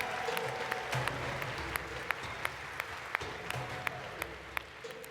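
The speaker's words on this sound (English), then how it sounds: "Let's give another big round of applause to Modulus Props." Crowd at a TwitchCon cosplay contest applauds in a continuous wash of clapping, with a steady murmur and a few sharp, regular ticks standing out on top.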